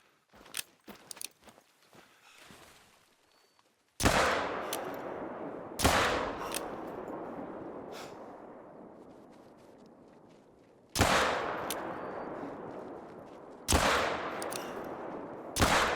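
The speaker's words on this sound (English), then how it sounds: "my ultimate goal was put as many rounds downrange as I could" Rifle shots from the Sundberg in theHunter: Call of the Wild, a European bison hunt: four loud, sharp reports spaced a couple of seconds apart, each trailing into a long rolling echo, after a stretch of quiet footsteps and rustling.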